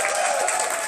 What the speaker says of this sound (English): Keep applauding, keep applauding.